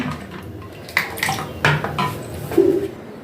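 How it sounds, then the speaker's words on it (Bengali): Homemade bael pana made with milk and gondhoraj lime is poured into a glass in a kitchen, with a few soft splashes and light glassy clinks over a quiet background. "এবার আমি একটু গ্লাসে ঢালছি দেখুন।"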